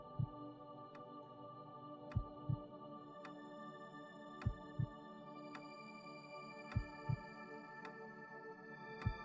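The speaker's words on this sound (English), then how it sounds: "the first little heartbeat" Soft heartbeat sound effect from the visual novel Katawa Shoujo, a few low thumps spaced irregularly, some in close pairs, set over a sustained hum and tonal background music.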